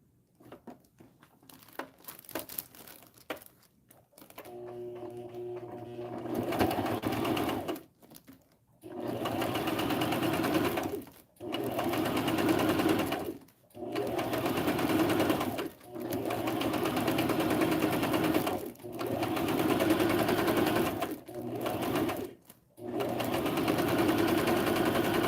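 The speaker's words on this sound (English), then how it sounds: "And I'm going to sew at the edge." A sewing machine running along the edge of fabric for a holiday craft, six or so distinct whirring stitching runs separated by short pauses, close and clear with faint handling sounds at the start.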